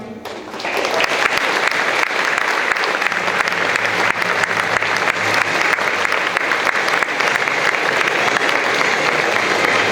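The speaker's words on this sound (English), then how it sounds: "Please join us in a round of applause for these brave veterans" Audience at a Veterans Day ceremony breaking into loud, sustained applause for veterans, many hands clapping close and continuous after a brief quiet start.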